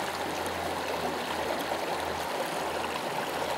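A river flows steadily through the Grand Canyon, a continuous rushing water sound that stays fairly loud and close the whole way through, with no voices.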